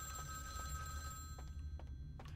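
A telephone rings in Vampire The Masquerade: Bloodlines with a steady, sustained electronic bell tone over a low background hum, faint to moderate and with no voices over it.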